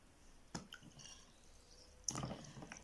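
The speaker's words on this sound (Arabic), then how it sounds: "غادي ناخدو 7 قطع ديال السكر ونوضعوهم في الماء" Sugar cubes drop into water one by one, giving two faint, close plops separated by quiet pauses.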